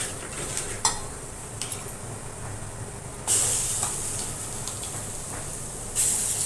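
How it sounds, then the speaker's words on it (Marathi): Coconut paste stirred and roasted in oil on a low flame for a stuffed crab filling, giving a soft continuous hiss with scattered scraping taps and two brief louder bursts of sizzle, no voices. "आणि आता आपण तेलावर पण भाजणार आहे ते चांगलं असं भाजून घ्यायचं"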